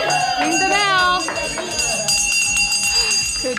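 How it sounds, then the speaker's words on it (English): A bell rung by a first-time client at a tattoo and piercing shop, several bright ringing strikes with lingering tones, heard close over lively talk and background chatter. "Ring the bell. Good job."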